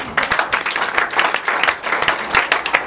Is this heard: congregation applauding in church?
yes